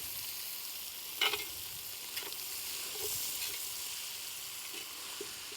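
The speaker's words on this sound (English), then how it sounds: "I'm going to use those onions and the moisture in those onions to deglaze my pan." Onions sizzling in a skillet as they deglaze the pan for a cowboy pork chili, with a faint, steady fry hiss and a few soft scrapes and clinks.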